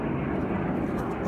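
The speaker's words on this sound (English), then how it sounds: "I apologize about the planes." Fixed-wing aircraft passing overhead outdoors, a steady broad engine roar that fills the whole clip with no other sounds present.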